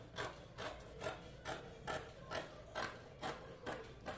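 Scissors cut through skirt fabric for a flared midi skirt in a steady series of soft, rhythmic snips about twice per second, close and quiet with no voices.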